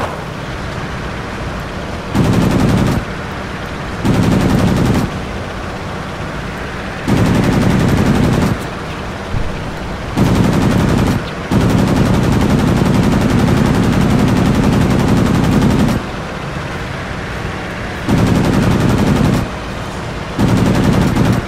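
Warplane machine guns fire in World of Warplanes: loud sustained bursts of rapid fire, repeating in spells of one to four seconds over a constant engine drone, with one long burst near the middle.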